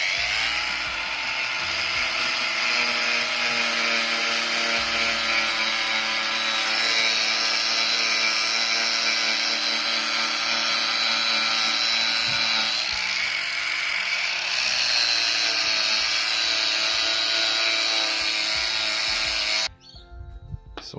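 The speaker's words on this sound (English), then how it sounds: "I'll also run the grinder over it just slightly in the thicker spots." A grinder runs steadily over a deer hide to thin its thicker spots, a loud, close, continuous mechanical whir with shifting pitch that cuts off abruptly near the end, followed by a brief clatter.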